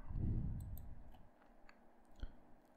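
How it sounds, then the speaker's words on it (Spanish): A computer mouse clicks a few times, short dry taps spaced over a quiet background after a soft low thump at the start. "Hago clic allí"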